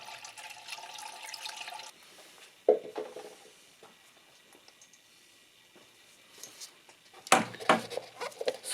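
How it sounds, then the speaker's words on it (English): Coolant being poured into the reservoir of a 2007 Peugeot Partner 1.6 HDi, a faint trickling flow with a louder splash midway and a stronger gush and gurgle near the end. "So I'll start pouring"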